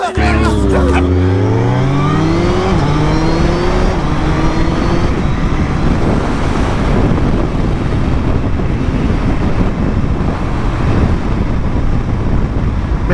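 A Suzuki Hayabusa motorcycle engine revs and accelerates hard, its pitch climbing through several rising sweeps before settling into a loud, sustained roar with rushing wind noise.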